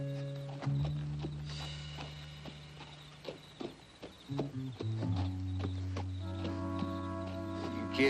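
Horses being unhitched from a wagon, hooves clip-clopping in scattered uneven steps at close range under a sustained musical score, with no voices.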